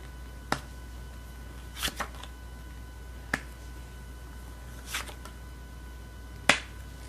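Tarot cards are shuffled and drawn in a quiet room, giving a handful of crisp, isolated snaps and flicks spaced irregularly over several seconds with no voices.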